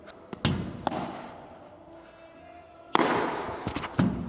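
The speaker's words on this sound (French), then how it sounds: "le bruit de la balle" Padel balls struck by rackets on a court: sharp, hollow pops, a few early and a cluster later, some close and some farther off, with quiet court ambience between.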